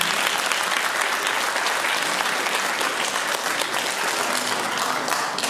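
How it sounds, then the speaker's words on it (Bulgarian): Wedding guests break into steady, dense applause for the bride Anita, a loud, continuous wash of many hands clapping that holds evenly throughout with no talk over it. "Аплодисменти за Анита."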